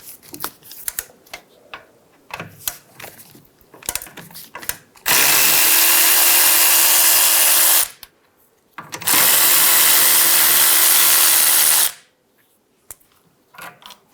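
A power tool spins off two 14mm nuts at the back of a Hyundai Sonata's rear trailing arm: two loud sustained whirring bursts of about three seconds each, separated by a pause, with clanks and handling clicks before them.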